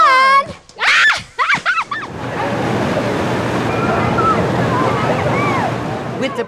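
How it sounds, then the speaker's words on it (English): Water rushing into flow at Dolly's Splash Country water park in Pigeon Forge, a steady broadband whoosh that builds after a few seconds of voices and a countdown, then holds loud and continuous with faint shouts over it. "With the press of a plunger on a TNT box, the water began flowing at Dolly's Splash Country."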